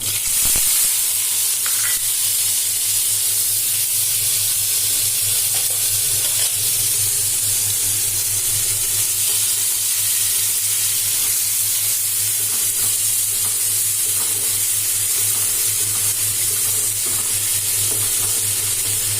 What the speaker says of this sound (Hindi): तेल गरम होला पर एथिरे सोरिष दे देछि। एबे दबा बटा होइतिया मसला सोरिष फुटी गलानी।